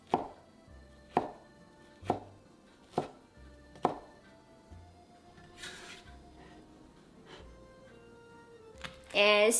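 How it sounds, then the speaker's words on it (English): A knife cuts pineapple into cubes on a board with five sharp, evenly spaced chops, each followed by a gap. Fainter knocks and handling noises follow, a voice talks over part of it, and a clatter sounds at the end. "Take out the pineapple. And cut it into cubes."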